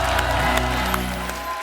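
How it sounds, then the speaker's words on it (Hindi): Studio audience applause and cheering welcome a singer onto a comedy show stage, a steady dense wash of clapping that holds throughout, loud and close. "जोरदार तालियां हो जाए।"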